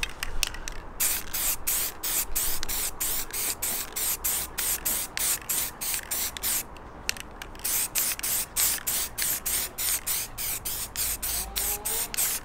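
Rapid bursts of aerosol gloss black spray paint hissing onto a bumper grill, dozens of short pulses in a steady rhythm with brief gaps, close and fairly loud, no talking.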